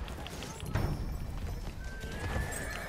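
A horse whinnies and its hooves clip-clop in the foggy battlefield of Battlefield 1, the sounds fairly faint and brief under game noise and nearby chatter.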